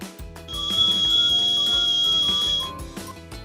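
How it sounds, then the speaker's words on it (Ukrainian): A shrill, sustained whistle from a whistling kettle rises and holds for a couple of seconds over low tonal sounds, then fades away. "Символ звуку це чайник, який свистить."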